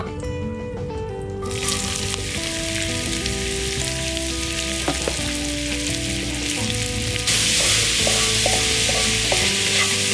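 Onion dropped into a hot pan and frying, a loud, dense crackling sizzle that jumps up as it hits the fat and grows fuller toward the end, steady and close, with no talking.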